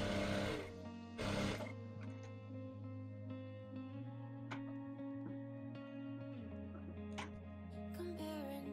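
Sewing machine stitching pockets onto a circle dress, a steady close mechanical whir with a couple of short louder bursts at the start and small clicks throughout, quiet and without talking.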